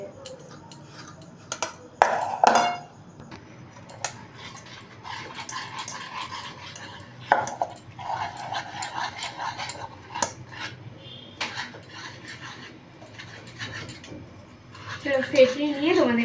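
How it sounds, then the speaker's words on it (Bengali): Cauliflower manchurian batter is whisked with water in a bowl, giving irregular clinks and scrapes of a utensil against the dish, with quiet talk between the bursts. "একটু একটু করে জল দিয়ে ফেটিয়ে নেব।"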